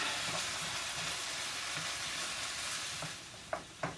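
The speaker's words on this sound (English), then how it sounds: "we're going to add the sauce. And I'm going to stir that up a little bit." Sauce is stirred into bok choy in a hot pan, giving a soft, steady sizzle with quiet scraping and two brief clatters near the end; no voices.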